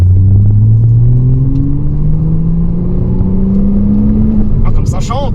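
A Porsche Cayman S 987's engine climbs steadily in pitch toward the rev limiter, a loud, close droning howl that keeps rising for several seconds before fading at the end.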